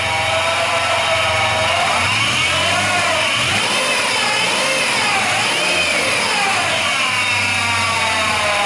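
A Buick LeSabre engine with a faulty mass airflow sensor runs rough, a loud, steady, uneven mechanical drone with wavering pitch throughout, alone with no talk.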